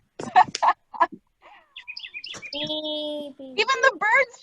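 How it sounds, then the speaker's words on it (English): Bird calls chirp in short bursts between people's voices, with a few higher tweets and a sustained tonal call breaking through mid-clip before talk resumes. "Even the bird's chiming in."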